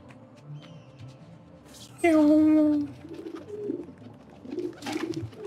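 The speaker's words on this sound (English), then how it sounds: "Hello, pigeon." A pigeon coos in Assassin's Creed II, one loud, clear call over quiet game ambience, followed by someone talking.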